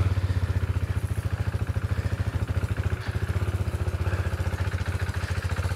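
A KTM Duke motorcycle engine runs just after a cold start, a steady rapid thumping idle with a faint metallic clatter, heard close by and alone.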